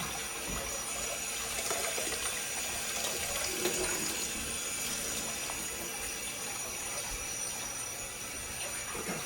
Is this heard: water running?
yes